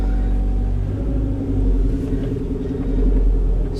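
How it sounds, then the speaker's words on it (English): A car engine cranks and then settles into a steady low idling rumble nearby that grows slightly louder toward the end, with no talking. "I don't know why he always has problems starting this car."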